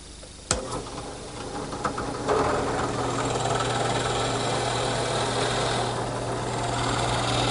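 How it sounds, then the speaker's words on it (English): A drill press bores an angled compound hole through a wooden rocking chair seat set on an 8-degree wedge with the table tipped 5 degrees; the motor whirs steadily close by after a sharp start, with the bit cutting in under a constant hum. "So again at the drill press, using my 8-degree wedge and tipping the table to 5 degrees,"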